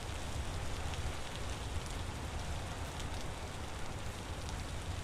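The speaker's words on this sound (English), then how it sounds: "I think it rains all the time." Steady rainfall in the video game Vintage Story: a dense, even hiss of drops on surfaces with a low rumbling undertone, continuous for several seconds with no talk.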